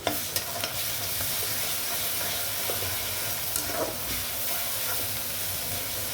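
Ginger-garlic paste hitting hot oil left from frying fish, a steady close sizzle and hiss with a few light stirring clinks, no talk over it.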